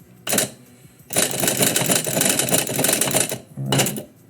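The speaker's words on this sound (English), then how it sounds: "I have an electric typewriter." An electric typewriter clatters under rapid typing. A short burst comes first, then a long run of quick, dense keystrokes, then a brief final burst. The sound is close and loud.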